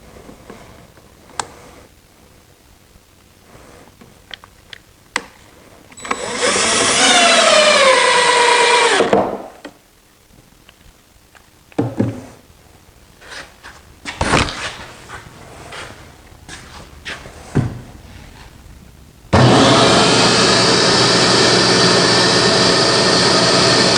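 A power tool cuts the legs of a traditional wooden sawhorse using a jig, in two loud sustained bursts, one of several seconds early on and a longer steady run at the end, separated by quieter clicks and handling knocks.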